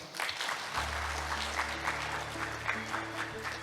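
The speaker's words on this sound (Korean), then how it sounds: "여러분 뜨거운 박수 부탁드리겠습니다" Audience applause at the closing ceremony of a Korean peace conference, steady sustained clapping from a crowd, with a speaker's voice and faint hum underneath.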